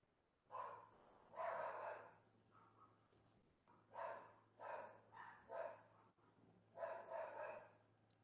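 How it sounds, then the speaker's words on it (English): Dogs bark at someone arriving at a house, heard indoors at a distance as several separate bursts of barking and yipping spread across the clip, with a steady low hum beneath. "my dogs are telling me that somebody's here"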